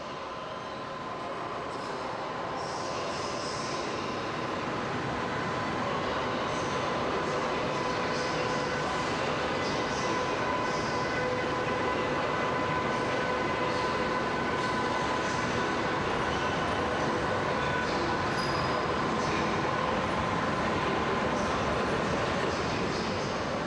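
A Metropolitan passenger train, hauled or pushed by a class 101 locomotive and rated for 220 km/h, rolls past steadily, a loud, continuous rumble of wheels on rails with a faint high whine running through it.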